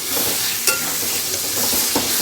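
Kashmiri chili powder sizzles steadily in hot oil while being stirred for a Bengali Bombay duck curry, with a couple of brief scraping stirs standing out over the continuous frying hiss; no talking.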